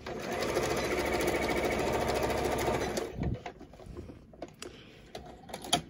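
A sewing machine stitches ribbon onto a seam allowance of a homemade Santa suit, running loud and steady for about three seconds, then stopping and leaving a few quiet clicks and handling sounds.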